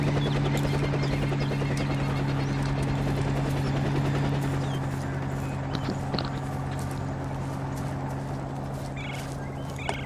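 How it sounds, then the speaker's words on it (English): A helicopter in a Vietnam War video game set in Rung Sat in 1966 drones steadily overhead, its rotor hum continuous and fairly close before easing slightly toward the end. "That's the chopper."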